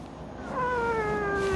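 An angry cat lets out a single drawn-out, rising-then-falling meow, close and clear, in a home shared with a Malinois and a border collie.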